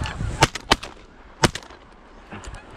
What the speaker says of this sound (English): Gun went off once, I got one.